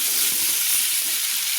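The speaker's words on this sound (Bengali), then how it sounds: "মিষ্টি কুমড়োগুলো আমি নেড়ে চেড়ে মাঝারি ফ্লেমে কিন্তু ভেজে নিচ্ছি।" Pumpkin cubes fry in oil over a medium flame with a loud, continuous bright sizzle, close by, with occasional soft stirring knocks beneath it.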